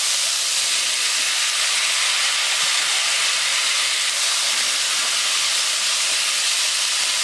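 Tomatoes and potatoes sizzling in frying spices in a pan for an aloo badi curry, a loud steady hiss with no pauses, close up.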